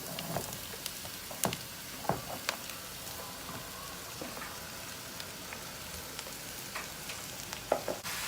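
Chopped cabbage tipped into a pan of browned, sautéed onions, giving a steady low sizzle and crackle with scattered sharp clicks and taps from the utensil, close and fairly quiet, no voices.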